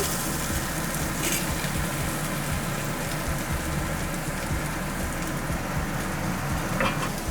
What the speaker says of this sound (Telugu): ఇంకా వెంటనే ఆనియన్స్ అను పచ్చిమిర్చి వేస్తాను ఆనియన్స్ వేస్తున్నాను